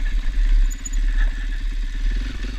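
Husqvarna FE501s motorcycle engine running steadily during an off-road desert ride, a close, loud, continuous throbbing drone with slight swells in revs and no talking over it.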